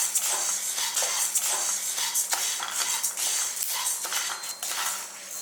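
Black urad dal dry roasting in a pan, with a spoon scraping and stirring in quick repeated strokes, close and steady, with no voices.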